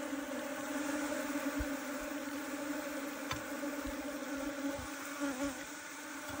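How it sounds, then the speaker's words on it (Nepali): Bees hum around a hive set inside a wall, a steady, low, droning buzz that holds throughout with faint thuds and rustles mixed in, fairly quiet and close. "त्यो रानी मौरी आउँछ"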